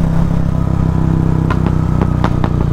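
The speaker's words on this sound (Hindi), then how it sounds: "गंदे पटाखे मार रही है बाइक।" A Royal Enfield Bullet 350 motorcycle idles with a steady thumping engine note, and about five sharp exhaust backfire pops crack out near the end, close and loud.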